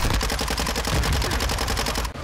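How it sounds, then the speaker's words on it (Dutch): Rapid sustained submachine gun fire in the video game Call of Duty: Modern Warfare 2 on the Shipment map at Christmas, a loud even stream of shots cut off abruptly at the end. "En het is een submachine gun, maar ik zit gewoon naar de andere kant van de map te schieten"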